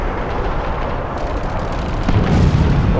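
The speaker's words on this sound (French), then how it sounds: "J'envoie une grenade, fais gaffe." A grenade explosion in an online first-person shooter match, a loud, sustained rumbling blast with dense low-end roar that swells near the end, filling the whole moment without talk.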